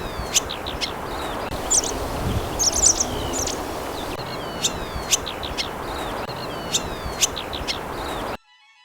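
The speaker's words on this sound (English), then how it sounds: "Here's the sound of the waru." A New Zealand swallow, or waru, gives repeated short, high chirps and twitters from close by in a backyard garden, scattered irregularly over soft rustling, before the sound cuts off abruptly.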